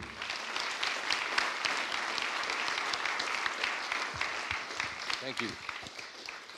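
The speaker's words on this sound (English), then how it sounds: "So let's give all of them a round of applause." A conference audience at a developer event's closing session claps steadily for the presenters, a dense, moderately loud applause running throughout while someone briefly speaks over it near the end.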